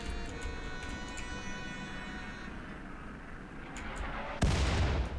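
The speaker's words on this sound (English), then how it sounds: "Is that a mortar? Oh god, they've got mortars." Mortar fire in the RimWorld video game, a muffled boom landing near the end over a steady rumbling game backdrop with faint ticking effects, with no talk.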